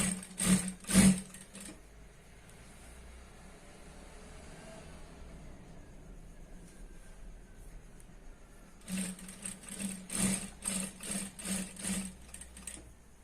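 A sewing machine stitches around the waistband of a dhoti salwar, joining the belt, in bursts of rapid mechanical whirring at the start and again near the end, with quieter room noise between.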